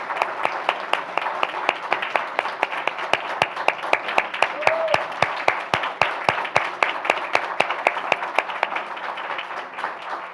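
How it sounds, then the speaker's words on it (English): An audience at a school board meeting applauds the elementary teachers of the year, a steady stream of sharp, evenly paced claps running for about ten seconds at moderate loudness, with no talking. "let's give them another round of applause for the valuable work"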